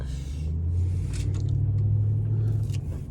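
A Chrysler 300 SRT8 pulling out of a parking lot, its V8 giving a deep, steady low rumble with some mild rises in engine note, close and continuous.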